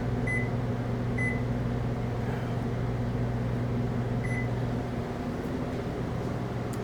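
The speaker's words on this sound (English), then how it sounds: "I'm going to go ahead and toss these in the microwave for 10 seconds" A microwave oven warms food on a short timed cook, giving a steady close hum with a few short electronic beeps scattered through it before the run winds down near the end.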